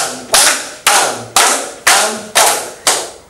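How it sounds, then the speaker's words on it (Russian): Six sharp, evenly spaced claps ring out at a flashmob, a crowd clapping along in time with music, loud and close with a steady rhythm. "И начинаем хлопать вместе с музыкой."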